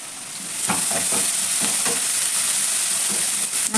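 Sliced onions sizzle steadily in a hot pan while a coconut poha is made, with a bright hiss throughout and a series of light scraping stirs over it.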